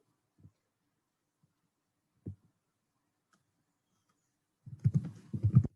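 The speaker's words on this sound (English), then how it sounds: "I'm typing the pseudocode here" Computer keyboard typing arrives as a few isolated soft clicks, then a quick cluster of keystrokes near the end, close and quiet against near silence.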